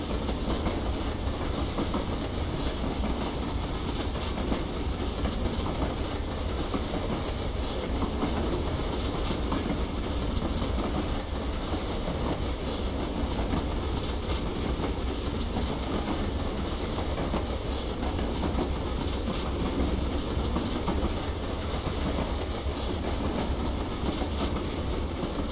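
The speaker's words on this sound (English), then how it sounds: "Loving the running sound of these coaches." Coaches roll on rails behind a J50 steam locomotive in a Weardale and Teesdale train simulation, a steady, moderate rumble with faint rhythmic clicking that continues evenly throughout, with no voices.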